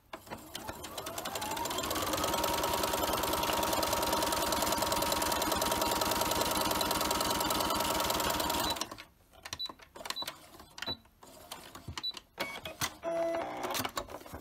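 A sewing machine stitches a reversible fabric face mask, humming in a steady, fast, loud run for about nine seconds before stopping, followed by scattered handling clicks and rustles.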